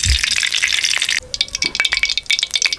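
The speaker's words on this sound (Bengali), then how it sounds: "সব সবজি ভেজে নিচ্ছি" Mixed vegetables, including red, green and yellow capsicum, sizzle loudly in hot oil for a chicken Maggi dish, with a steady crackling hiss and bursts of stirring and clinking throughout.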